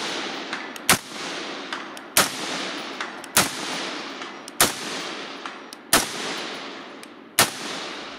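Rifle shots from a budget SPR build fitted with a muzzle brake ring out one at a time, about six sharp cracks spaced roughly a second apart. Each crack is loud and close and is followed by a rolling outdoor echo.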